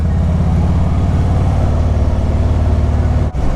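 Road traffic around a motorcycle moving slowly through congested lanes between cars, a steady close engine drone with a brief dip near the end, loud and continuous with no talk.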